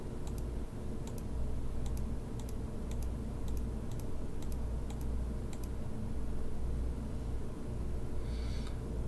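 A computer mouse clicking during a Kerbal Space Program session, sounding as a faint series of evenly spaced sharp clicks over a low background hum, then stopping.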